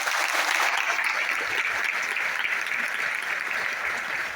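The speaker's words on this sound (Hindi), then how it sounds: "तो दिल से उनके लिए ताली बजाइए।" Audience applause at a direct-selling training event, a dense wash of many hands clapping that stays loud and even from start to finish.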